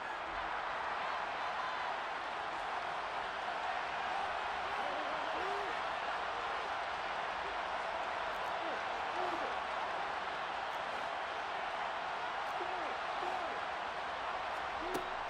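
Crowd applause and cheering from a Madden NFL 23 football game, heard as a steady, dense roar that holds at an even level for the whole stretch with no break.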